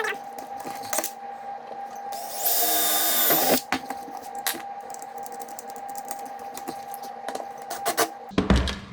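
A power drill bores into steel while mounting an LED headlight on an SSR-150 dirt bike, with one loud sustained burst of drilling in the middle surrounded by scattered clicks, taps and handling noises up close.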